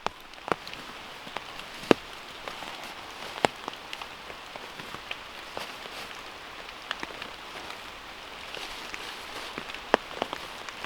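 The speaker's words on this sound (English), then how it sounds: "it's time to get the shelter set up because it is raining" Steady rain falls in a forest, a dense hiss broken by scattered louder drops tapping nearby surfaces, with no voices.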